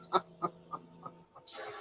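A chicken clucks about five times in a short, evenly spaced series, close and clear, with a brief rustling burst at the end.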